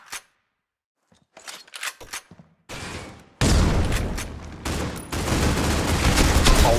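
Gunfire in a competitive tactical shooter match, including a wallbang shot through a wall, with sharp isolated cracks early, then loud sustained bursts of shots and clattering that fill the last few seconds.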